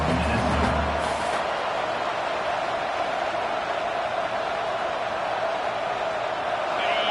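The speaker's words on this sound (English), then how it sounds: "the crowd really making some noise now, trying to help out this defense" College football stadium crowd at Minnesota vs Iowa, heard as a sustained, fairly even roar of cheering and noise from a large crowd near the goal line late in the game, with no clear single voice on top.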